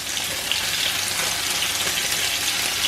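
Scallops frying in a hot pan, a loud, close, continuous sizzle with fine crackling throughout and no voices.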